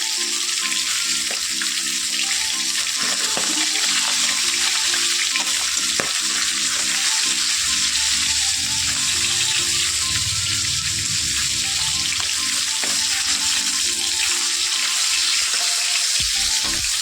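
Fish frying in a pan on a home stove, a continuous loud hiss of hot oil with occasional clatters and a brief lower bubbling swell, steady throughout and without speech.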